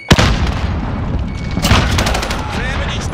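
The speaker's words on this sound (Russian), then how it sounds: "Кидаю гранату!" A grenade bursts with a loud, close boom in Call of Duty Warzone on Rebirth Island, and rattling gunfire and further blasts roll on after it.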